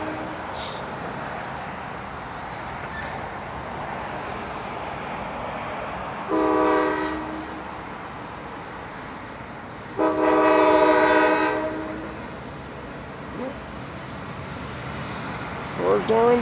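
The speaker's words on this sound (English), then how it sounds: "Lead the 15 car train through Lawrence towards" A Carolina Piedmont freight train of fifteen cars rolls through Simpsonville, its rumble steady beneath two long, loud horn blasts, the second longer, with a brief short toot near the end.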